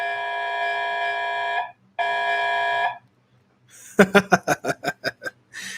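A Williams Classic series buzzer-style horn, made to mimic 1950s buzzer horns, blares in two long steady blasts, then stutters through a run of rapid short bursts before one final brief blast.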